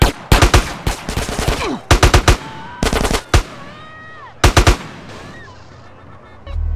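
Gunfire in the video game GTA San Andreas during a mission to take out a Russian arms dealer: several loud, sharp bursts of rapid shots separated by short pauses, close and dominant, with a brief spoken word between them.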